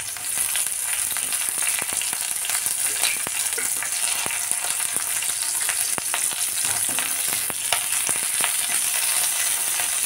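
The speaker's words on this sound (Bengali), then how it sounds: "এবার আমি ওই কিউব করে রাখা পেঁয়াজগুলো এখানে ছেড়ে দেবো। তো এগুলোকে বেশ ভালো করে ভেজে নিই।" Cubed onions sizzle in hot oil, a steady bright crackle broken by light scraping and stirring taps, close and continuous with no voices.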